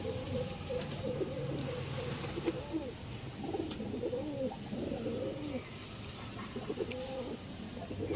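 Pigeons coo repeatedly in Tukai's pigeon loft, several low rolling calls overlapping at close range against faint background noise.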